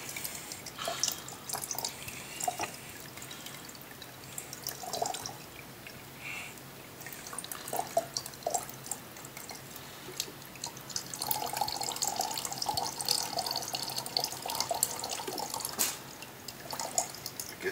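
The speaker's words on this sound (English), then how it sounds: "I'm going to pour the water." Water is poured into a container and trickles down through a sand and silt sample in a filter packet, checking sand spec for a Presby AES septic system; steady soft splashing and dripping continue throughout with no talk.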